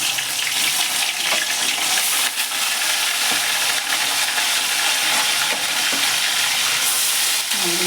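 Fish fried in hot mustard oil in a wok gives a loud, steady, dense sizzle close by, an unbroken frying hiss with faint stirring clatter.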